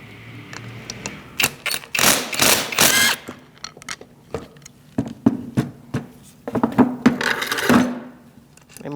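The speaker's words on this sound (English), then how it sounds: "Using a 14mm socket, and remove our bolts here." Front brake caliper bracket bolts on a 2016-2019 Chevrolet Cruze being loosened with a 14mm socket and ratchet, giving close, irregular clicks, clanks and ratcheting bursts with short pauses between.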